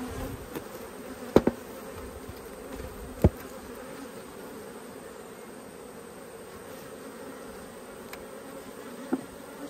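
A dense swarm of honey bees drones around an open hive, close and continuous, broken by a few sharp clicks and knocks of hive parts.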